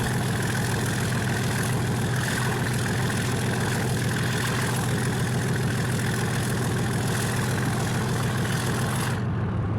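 A heavy locomotive engine in a Roblox train game, a Class 37 diesel, rumbles and revs steadily for several seconds, loud and continuous, then cuts off abruptly near the end.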